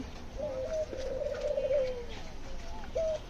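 Australian doves coo from close by, producing a soft, drawn-out warbling call followed after a short pause by one brief coo, with no other sounds around them.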